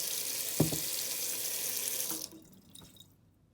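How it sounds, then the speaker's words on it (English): Hot water runs from a kitchen tap into a jar in a steady broadband rush with a couple of light clinks, then stops abruptly partway through, leaving faint room noise. "So first we'll want to fill our jar with hot water."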